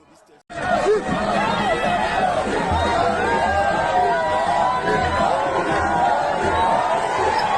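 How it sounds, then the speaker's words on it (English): A crowd at a village political rally chatters and murmurs continuously, a dense babble of many voices that starts abruptly and stays steady throughout. "listen to that crowd in our village"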